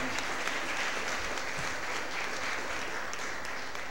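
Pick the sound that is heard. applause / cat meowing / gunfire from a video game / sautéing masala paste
applause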